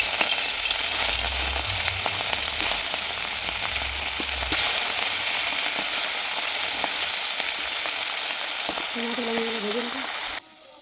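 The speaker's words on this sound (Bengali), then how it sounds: "এটাকে আমি ভেজে নেব।" Puti fish fry in hot oil in a wok, giving a steady, close, dense sizzle that runs nearly unbroken and cuts off abruptly at the very end; a brief voice appears near the close.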